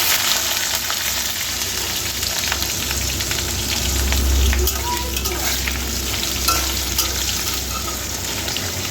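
Whole garam masala spices sizzle and crackle in hot oil in a pan for a vegetarian Bengali curry, a loud, continuous close-up frying hiss with occasional pops and no voices.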